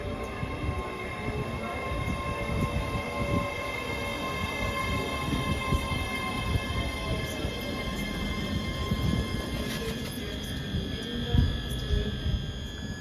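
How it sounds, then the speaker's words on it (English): A ScotRail train pulls out of Haymarket station in Edinburgh, bound from Waverley to Glasgow Queen Street, with a steady rumbling roll and tonal hum at moderate distance, with no talk over it. "Departing out now is the 1520 ScotRail service from Edinburgh Waverley to Glasgow Queen Street"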